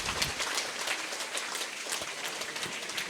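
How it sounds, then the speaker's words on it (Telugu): Steady applause from a crowd at a gathering at a meditation hall in Mandapeta, a continuous dense patter of clapping throughout. "ఒకసారి గట్టిగా చప్పట్లు కొడదాం."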